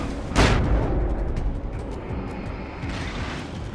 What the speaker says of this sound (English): I'm just gonna flashbang.